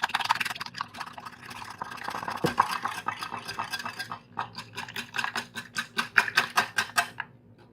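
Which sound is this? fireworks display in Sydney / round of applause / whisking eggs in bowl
whisking eggs in bowl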